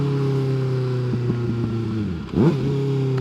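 A 600cc motorcycle engine idling steadily, then briefly dropping and revving up sharply during a downshift, heard up close.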